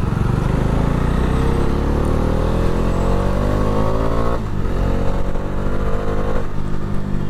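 A 2022 Bajaj Dominar 400 motorcycle is ridden with a pillion passenger, its engine droning loudly and steadily and rising in pitch as it accelerates, then dipping briefly at a gear change before climbing again.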